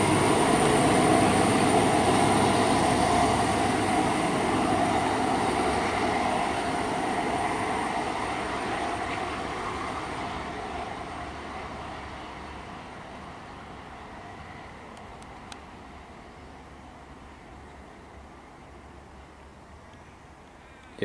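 A VLocity diesel railcar set pulls out of Bunyip station on the Gippsland line, a broad rumbling roar close at first that steadily fades as the train draws away into the distance.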